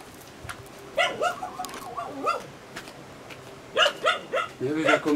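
Dogs bark in repeated bursts at a visitor spot in Bali, with a quick run of barks around one to two seconds and another cluster near four to five seconds, fairly close, over steady outdoor background noise.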